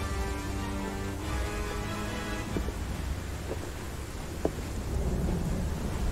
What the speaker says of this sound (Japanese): こんなに雨降っててさ